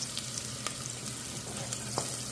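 Onions sautéing in a pan give a steady, moderate frying sizzle with occasional stirring scrapes and clicks, no talk.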